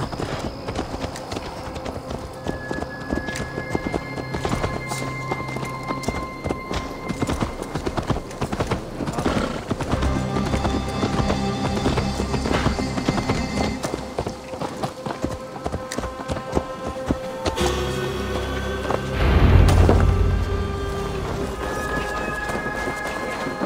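Horse hooves clip-clop at a steady walking rhythm in Assassin's Creed Valhalla, loud and continuous over the whole stretch, with a low rumble and snort near the end and some game sounds mixed in.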